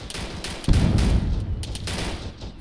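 Gunfire in the military shooter ARMA 3 during a joint realism-unit operation, a sudden heavy burst of rapid shots followed by sustained fusillade with sharp cracks, fairly loud and close.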